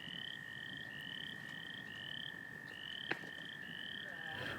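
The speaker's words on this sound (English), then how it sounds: "When I first heard all the croaking, I actually thought that it was the double brood cicadas coming out." Frogs croak by a tee box on a disc golf course during the 2024 PDGA Champions Cup. A steady, rhythmic chorus of repeated chirping croaks runs over a constant outdoor hum, with one sharp click partway through.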